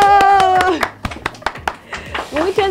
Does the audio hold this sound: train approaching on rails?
no